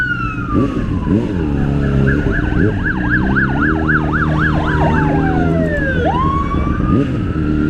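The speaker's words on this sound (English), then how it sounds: "I hear a siren." An emergency siren wails loudly and nearby, shifting between a fast yelp and a slow rising and falling wail over traffic noise.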